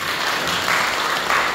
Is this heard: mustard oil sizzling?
no